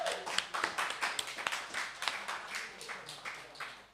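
An audience at a community creativity evening in Erdington gives a round of applause: many hands clapping in a dense, steady patter for the whole stretch, fairly close and moderately loud, with no one speaking over it.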